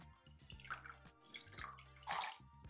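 A fresh lemon is squeezed by hand for a tahini dressing, giving close, wet bursts of juice in three short squirts and dribbles, quiet and alone.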